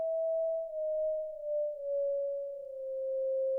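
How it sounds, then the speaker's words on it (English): A single steady electronic tone from a Bitwig pitch shifter glides slowly downward in pitch, wavering and settling in small uneven steps rather than sliding smoothly, alone and fairly quiet. "with the pitch shifter, especially based on how you have grain set up, is that it does not move as smoothly."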